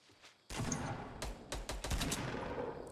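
Rapid, loud bursts of gunfire in the Fortnite Battle Royale video game begin after a short quiet lead-in. Repeated shots crack in quick clusters, with no talking over them.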